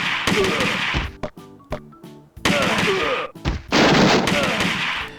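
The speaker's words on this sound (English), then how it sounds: "I got a machine gun now. This is fully auto." Fully automatic machine gun fire from an old Sega arcade shooter, loud rapid bursts broken by short gaps, with clanking game effects and a voice talking over parts of it.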